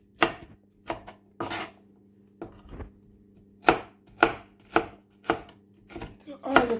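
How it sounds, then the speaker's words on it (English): A knife chops sweet pepper on a cutting board, about ten sharp, separate chops at an irregular pace, close and fairly loud with no talking. "And now I'm cutting up the sweet pepper."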